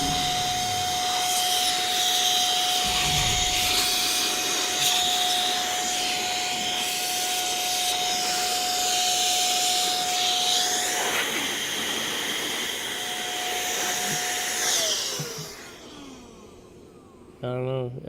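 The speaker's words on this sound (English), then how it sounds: "Get my vacuum." A household vacuum cleaner runs steadily at close range with a constant whine and broadband roar, cutting out near the end; voices are faintly present.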